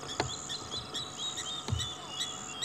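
Birds call at sunset on an African safari near resting lions, a faint chorus of scattered chirps and whistles over a soft insect hum, with no talk.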